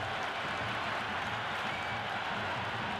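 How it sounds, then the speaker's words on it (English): A stadium crowd roars and applauds in the Cricket 26 video game during a CSK versus MI IPL match, a dense, steady wash of cheering that holds at an even level for the whole stretch. "The crowd is electric right now."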